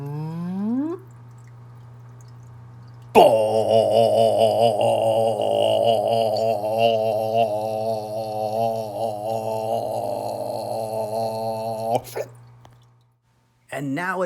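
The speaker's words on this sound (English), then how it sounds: "this is what I imagine the Rotifer Opera might sound like" An imagined opera sung by rotifers, pond microorganisms: a sustained, wavering harmonic voice-like tone with vibrato, loud and continuous for about nine seconds after a low steady hum, ending abruptly.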